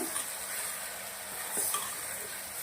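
Spices being stirred into a pan of small whole eggplants for a Kolhapuri baingan masala, a steady soft sizzle with faint scraping strokes running throughout, fairly quiet and with no voices.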